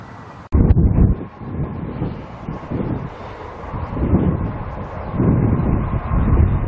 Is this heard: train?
yes